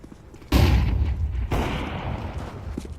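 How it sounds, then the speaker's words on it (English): A thrown flashbang grenade goes off in Counter-Strike, a sudden loud blast followed by a ringing, decaying rumble, then a second sharp burst a second later that fades out, with no talk. "Throwing fire. Flashbang."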